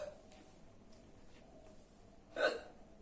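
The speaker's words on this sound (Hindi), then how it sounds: "हिचकी जरूर लगती है मेरे को रीडिंग करने के टाइम पे।" A single sharp hiccup from a person during a reading, close and fairly loud, bursts out about two and a half seconds in over a quiet room hum, with no talking.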